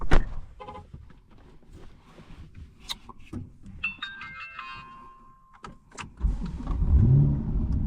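Chevrolet C8 Corvette started from inside the cabin: chimes and electronic beeps, clicks, then the engine catches with a rising, loud rumble near the end.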